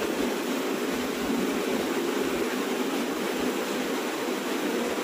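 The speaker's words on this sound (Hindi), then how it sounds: "वो देखो झरना आ रहा है" The waterfall at Guchhupani near Dehradun, where clear water flows between high hills, gives a constant broadband rush of falling water. It sounds steady and fairly near, with no break or change.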